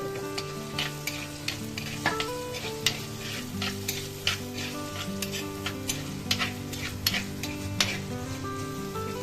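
Crushed small shallots frying in a pan for a homestyle fish curry, with a steady sizzle and repeated scraping strokes of a spoon as they are stirred. Heard close and alone, with no talking.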